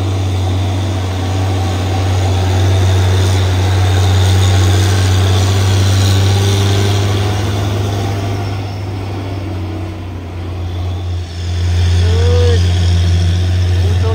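A Hino 500 tronton truck engine rumbles in a loud, steady low drone from close by, holding constant throughout with faint road noise around it, while voices talk faintly in the background.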